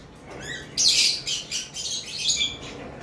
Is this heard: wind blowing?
no